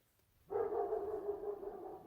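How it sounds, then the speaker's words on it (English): A dog barks at a rural home, probably at deer by the gate, heard as one sustained, fairly distant bark or howl that starts abruptly and carries on alone without talk. "What's Duke barking at?"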